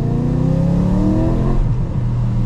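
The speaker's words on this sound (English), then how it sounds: "Let's see what happens full throttle in wet conditions." A BMW E92 M3 accelerates at full throttle on wet roads in second gear, its engine note rising loud and strong with a harmonic climb, then briefly easing, heard from inside the car without talk.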